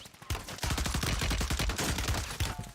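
Rapid automatic gunfire from the video game Warzone, a loud sustained burst of closely spaced shots that runs almost without pause.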